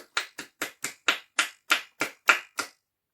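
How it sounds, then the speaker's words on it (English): About ten sharp, evenly spaced hand claps in a church congregation, close and crisp with brief silences between them, ending in quiet. "Huge round of applause"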